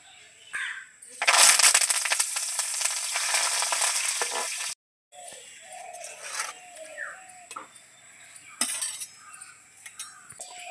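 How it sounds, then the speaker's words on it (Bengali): Curry leaves hit hot oil with a loud, crackling sizzle that swells and holds for a few seconds, then cuts off, followed by quieter spatters and clinks of a spoon stirring in the pan. "এবারে কারি পাতাগুলো ভেজে নেব।"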